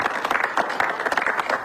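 Audience applause in a brief, busy burst of many people clapping at once, fairly close and uneven in texture, with no clear talk over it.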